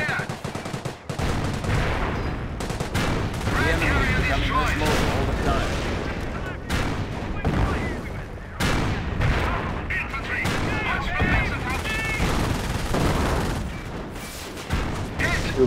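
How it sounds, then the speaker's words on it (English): Dense gunfire and booming artillery from the Company of Heroes video game, with British army and elite Panzer units in battle, loud and continuous, with bursts of shots and explosions layered over one another. "O bicho tá pegando"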